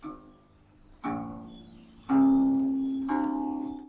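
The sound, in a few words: guqin heavy earthy low tones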